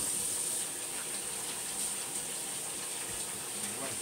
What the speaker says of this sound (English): So, I'm gonna wash my hands.